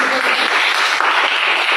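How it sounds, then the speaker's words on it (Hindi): Loud, steady audience clapping at a Hindi-language sales promotion event, a brief dense burst of applause with no break and no voice over it. "एक बार जोरदार तालियां।"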